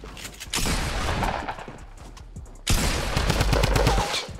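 Shotguns fire in a Fortnite Battle Royale match, with rapid bursts of loud gunfire in two dense clusters separated by a brief lull, close and sharp with no talking.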